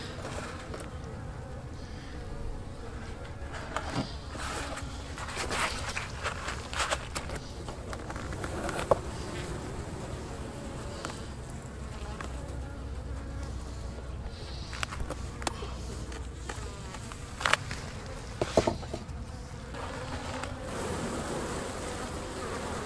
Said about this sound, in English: Still got quite a few bees down in the box.